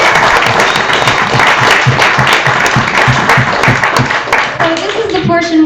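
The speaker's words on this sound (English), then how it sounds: "So once again, give him a round of applause" Audience applause at a school assembly for a working musician, loud, dense clapping from a crowd close by, with a rhythmic low thump underneath, ending as a voice begins to speak.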